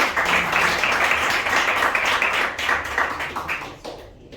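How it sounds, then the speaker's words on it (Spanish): A church congregation claps loudly and steadily throughout a worship service, a dense wash of hand claps that thins out near the end. "Dale fuertes palmas al que te da la victoria"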